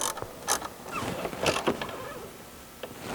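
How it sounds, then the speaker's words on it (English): A 7/32 Allen wrench tightening a bolt on a heat shield bracket of a Dodge Charger/Challenger 5.7L/6.1L cold air intake, giving several short metallic creaks and clicks, close and fairly quiet. "Now with a 7/32 Allen, we're going to go ahead and tighten it up."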